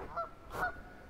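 Ducks on the water call out with two short honking cries close together, each followed by a clear echo across the morning surroundings along a creek trail.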